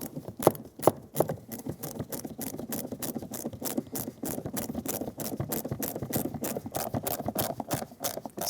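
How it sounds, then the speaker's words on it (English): Ratcheting screwdriver driving a screw into the plastic door grab handle of a 2014-2021 Mazda 6, rapid regular clicks close by, preceded by a few sharp taps. "Install the screw that goes down into the grab handle."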